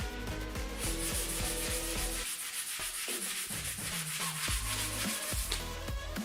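Sandpaper is rubbed by hand over primer in repeated quick rasping strokes, steady and close, with a short pause partway through before the scrubbing resumes, and no voices.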